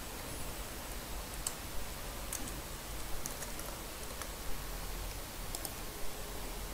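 Soft, steady clicking of computer keys while someone types Chinese characters on a Windows 10 PC, faint and close, with a few slightly louder key taps scattered through a quiet background hiss.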